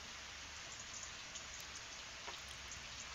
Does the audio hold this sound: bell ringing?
no